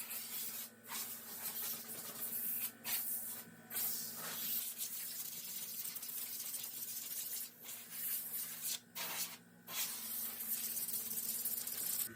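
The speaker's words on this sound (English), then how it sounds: "I'll go ahead and use my air compressor and spray out all the cracks" Compressed air from an air compressor hisses in bursts, blowing water out of the cracks and seams of a car during an exterior detail; steady near spray noise with several brief pauses, no talk.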